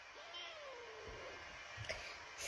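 A frightened cat gives one drawn-out, faint meow indoors, followed by a few soft knocks and rustles.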